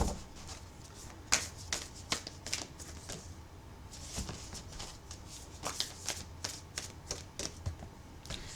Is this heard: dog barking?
no